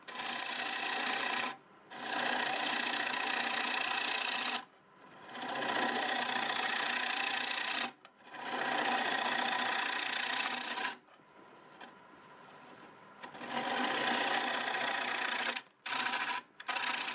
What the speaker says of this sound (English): Going back to the 5/8 bowl gouge, and we'll just hog some of this away.